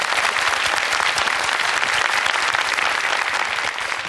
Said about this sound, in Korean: 자, 일단 박수 한번 보내주세요